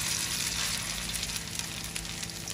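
Fritters fry in hot oil in a wok, giving a dense, continuous sizzle with small crackles and pops throughout, close and steady with no voices.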